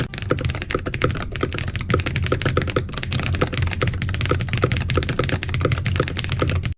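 Rapid, continuous typing on a computer keyboard, with dense fast clicks and keystrokes running steadily throughout, close and alone with no talking.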